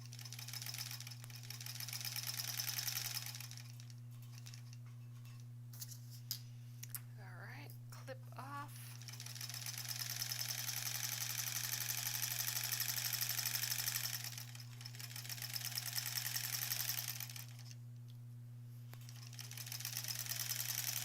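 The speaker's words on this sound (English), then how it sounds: "we can take the first row off of the sewing machine" A sewing machine stitches rows of a granny-square quilt back in steady bursts of rapid needle clatter, stopping and starting over a constant low electrical hum, with a brief pause and handling noise midway.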